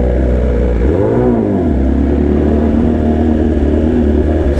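A motorcycle engine revs up and back down once near the start, then settles into a loud, close, steady running note.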